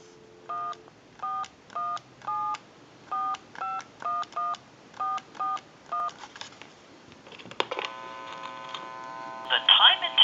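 A telephone line dials a time-and-temperature number with a run of about eleven evenly spaced DTMF touch-tone beeps, followed by line clicks and a connecting tone.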